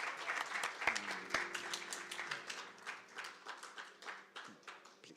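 Audience at a teaching and learning festival clapping in a brief round of applause, dense and moderately distant at first, then thinning out and fading as hands slow, with a couple of knocks amid the room.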